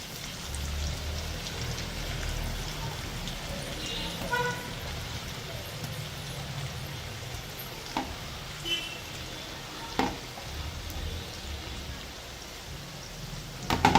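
Chicken fingers deep frying in hot oil give a steady, fairly quiet crackling sizzle, broken by a few light clinks and taps.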